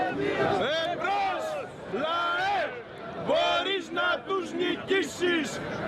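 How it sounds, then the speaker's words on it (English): Protesting crowd besieging the Greek parliament on Syntagma Square, a loud mass of voices chanting and shouting in rising, rhythmic bursts. "the Greek parliament besieged by the crowd waiting for the fateful vote"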